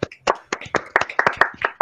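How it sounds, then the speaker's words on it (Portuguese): A few people clap with their hands at the close of an online physics talk, each clap sharp and close against a quiet background, forming a short irregular run of separate claps. "A gente abre o microfone para aplaudir o palestrante."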